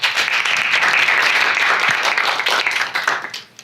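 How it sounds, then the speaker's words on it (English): A conference audience at PyData New York 2019 applauds a speaker being introduced, dense clapping from a crowd that holds steady for about three seconds and then tapers off. "give a round of applause"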